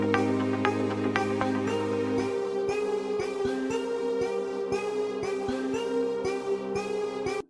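Synth lead from Flex playing a melody in an Afro House production: a bright, harmonically rich tone with a low held note at first, then repeated rhythmic notes over a steady pulse, continuous and clear.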